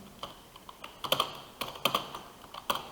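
Fast keystrokes on a computer keyboard in short irregular clusters, with sharp clicks standing out over faint room noise and no speech.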